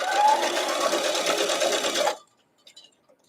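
A sewing machine stitching quilt fabric: a fast, steady, loud whirring run close by for about two seconds, then it stops, leaving a few faint handling sounds.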